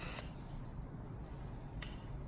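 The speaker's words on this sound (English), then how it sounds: "I like to go ahead and spray it with hairspray" Hairspray sprayed onto fine hair in two short hissing bursts, one at the start and a fainter one near the end, close to the mic with quiet room noise between.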